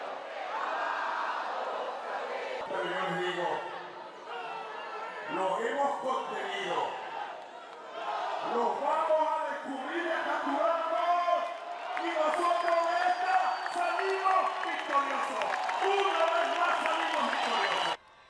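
A crowd of supporters at the presidential palace cheers and whoops continuously for Nicolas Maduro, a dense, sustained roar with scattered clapping and shouts building slightly toward the end.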